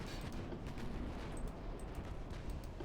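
Naval guns of a battleship fleet firing on an enemy battleship in the Ultimate Admiral Dreadnoughts game, a dense, continuous rumble of distant cannon fire and booms with no clear gaps.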